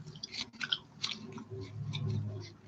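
Wet, sticky chewing of soft pink bubblegum close to the mouth, with smacking bites and a low hum behind.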